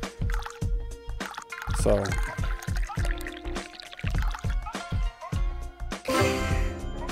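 Green tea is poured in the video game Dave the Diver, a liquid pour and trickle sound effect with clicks and game music, under a voice talking over it.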